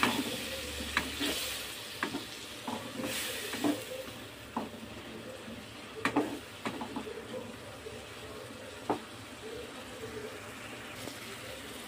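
Spices for a bitter gourd curry fry in oil with a little water added while a spoon stirs the pan, giving a soft steady sizzle broken by intermittent scraping clinks. Quiet and close, with no talk.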